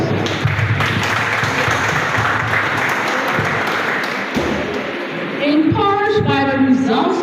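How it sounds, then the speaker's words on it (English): An audience at a health program event in Grand Gedeh, Liberia applauds in a dense, sustained burst of clapping, and a voice speaks over it toward the end. "Let's appreciate our heroes and heroes with a hand of applause."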